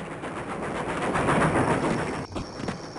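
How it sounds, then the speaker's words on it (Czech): Train passing in the DOS game Blood, a dense rumbling clatter that swells loud and then cuts off abruptly near the end, with no voices. "Ten vlak se teleportuje vždycky zpátky."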